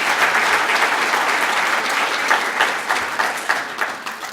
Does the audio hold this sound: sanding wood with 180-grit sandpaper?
no